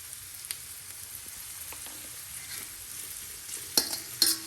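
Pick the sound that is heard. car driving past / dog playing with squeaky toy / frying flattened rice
frying flattened rice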